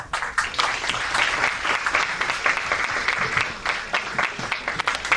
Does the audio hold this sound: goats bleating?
no